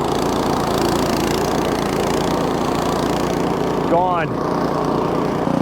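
A Craftsman snowblower engine drones steadily and loudly while it chews through wet, heavy, slushy snow, with a brief voice breaking in near the end.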